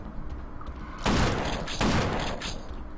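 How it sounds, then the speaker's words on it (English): Two loud gunshots from a sniper targeting a sentry gun in Space Beast Terror Fright, each a sharp crack with a brief decaying tail, roughly a second apart, over a low ambient hum. "I'm gonna snipe this sentry gun."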